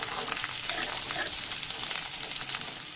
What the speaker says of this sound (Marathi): आल्यालाही छान फ्राय होऊ द्यायचं आहे तेलामध्ये.